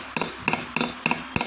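Light hammering on metal around set stones in a piece of jewelry: five crisp, evenly spaced taps with short ringing tails, close up and alone, with a few strikes doubled as quick bounces.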